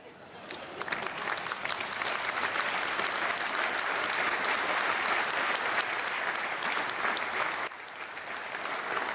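A conference audience at the opening of an energy gathering in Namibia claps steadily, sustained dense applause filling the room for most of the stretch before tapering near the end.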